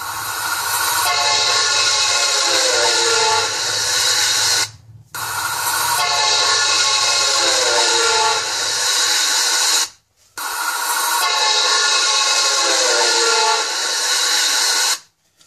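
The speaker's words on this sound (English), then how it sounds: "When a train whistling arrives a station and passes by you, what type of sound is heard?" A train whistle sounds as the train passes by, heard three times in a row, each a loud sustained horn whose pitch drops audibly as it goes past, with low rumble beneath.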